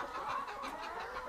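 Chickens on a poultry farm with egg-laying nest rooms, a continuous overlapping chorus of clucking hens, steady and moderately loud, with no voices.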